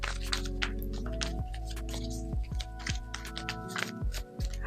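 Tarot cards shuffled in a quick series of crisp, papery taps and riffles, close and fairly soft, over a steady background of sustained musical tones.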